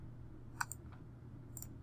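A computer mouse clicks faintly a few times while software is being installed, one clear click followed by softer ones, near and alone in a quiet room.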